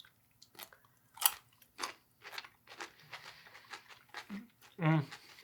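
Crunchy bites and chewing of a pickle at a taste test after eating a miracle berry, short wet crunches scattered across the clip, close up, with some voice in between.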